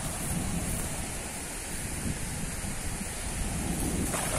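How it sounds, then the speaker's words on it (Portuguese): A waterfall rushes in a steady, loud, broadband roar at a fishing spot, a continuous wash of falling water that stays constant throughout. "Aqui é a cachoeira."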